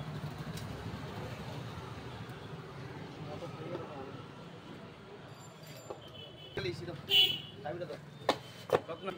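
A blade cuts open the cardboard box of an NX Audio MT1801 amplifier during unboxing, making a few short, sharp scraping snicks near the end over a low room hum while someone talks.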